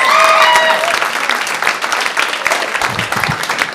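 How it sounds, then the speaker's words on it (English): Loud, sustained applause and cheering from a comedy club audience welcoming a stand-up comedian to the stage, with a few whistles early on, continuous for the whole stretch with no speech. "please put your hands together for Joe Casilio"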